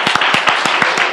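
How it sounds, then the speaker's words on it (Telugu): A studio audience claps for a contestant named Abhilash on a Telugu comedy game show, loud close rhythmic clapping with sharp, evenly spaced claps over a bed of broader applause. "సో ఒకసారి అభిలాష్ అందరు గడిగా క్లాప్స్ కొట్టాలి."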